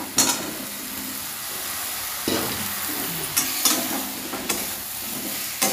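Fried vegetables sautéed with cooked-down tomato spice paste in a pan give a loud, continuous sizzle, punctuated by repeated scraping and clacking strokes of a spatula stirring up close.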